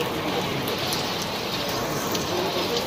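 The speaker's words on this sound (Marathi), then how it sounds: "पाऊस जोरात चालू झालेला आहे." Heavy monsoon rain pours down outside the Lalbaug Cha Raja pandal in Mumbai in a steady, dense hiss with no letup, close and constant throughout.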